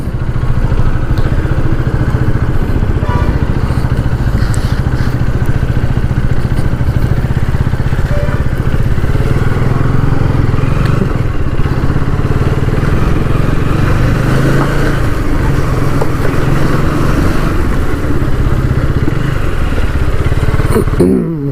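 A 2025 Husqvarna Vitpilen 250 motorcycle engine idling steadily, a loud, continuous low rumble with mechanical clatter, heard close up for the whole stretch without a break.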